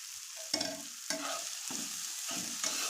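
Egg chow mein frying in a pan, a soft steady sizzle broken by several distinct scraping strokes of a spatula stirring the noodles at an even, unhurried rhythm, close and fairly quiet with no voices.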